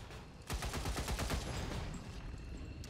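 Rapid burst of weapon gunfire in XCOM 2, a quick string of loud close shots in fast rhythm, followed by a lingering rumbling tail.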